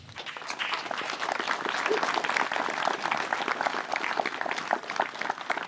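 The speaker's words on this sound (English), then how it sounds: "give yourselves a big round of applause" An audience of family and friends applauds at a celebration-of-life memorial gathering: dense, continuous clapping from a large group that holds steady and loud throughout.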